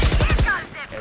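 Rapid burst of Valorant gunfire, four or five sharp shots in quick succession in a competitive tournament match, loud and close before fading into game ambience.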